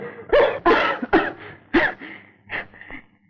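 Several harsh coughs in quick succession, close and fairly loud, followed by a couple of softer throat-clearing bursts.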